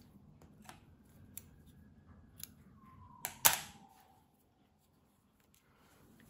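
Scissors snip through knitting yarn once with a sharp close crisp cut, preceded by a few light clicks and rustles of handling in an otherwise quiet room.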